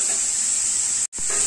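Bottle gourd frying over medium heat in a pan for a halwa, giving a steady, close hiss of sizzling broken by a brief silent gap near the end.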